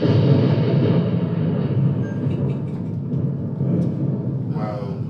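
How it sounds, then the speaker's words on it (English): A train draws near in a steady, heavy rumble of wheels and carriages on the rails, holding at an even level throughout with faint squeaks rising near the end. "Well, the train's still coming"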